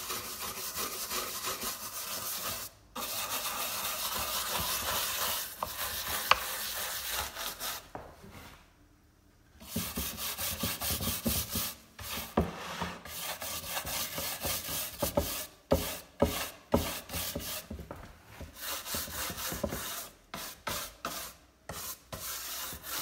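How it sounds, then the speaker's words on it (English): Continuous scrubbing and rubbing of paint stripper into an old wooden antique clock, steady at first, then broken into irregular strokes with short pauses. "And we can just massage that stripper in."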